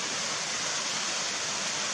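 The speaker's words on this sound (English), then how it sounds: "And we're coming out on the creek over here." A creek near Gatlinburg rushes by, a steady, dense wash of flowing water that stays constant and close throughout, with no voices.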